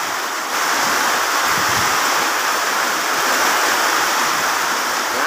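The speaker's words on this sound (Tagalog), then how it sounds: "Malakas ng hangin, malakas pang ulan." Strong typhoon wind and heavy rain by the sea make a dense, continuous roar of rushing noise that stays loud and unbroken throughout.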